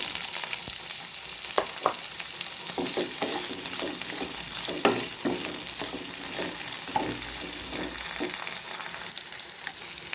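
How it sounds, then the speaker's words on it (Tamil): Ivy gourd pieces fry in sesame oil with a steady sizzle, while a spoon scrapes and stirs the pan in irregular knocks. "எண்ணெய் சூடானதும் நம்ம நறுக்கி வச்சுருக்க கோவக்காயை சேர்த்துக்கலாம்."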